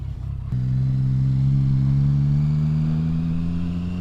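A motorcycle engine runs loud and steady while riding at around 15 mph, after a brief quieter opening, its pitch rising slowly as the bike is leaned over into a left turn.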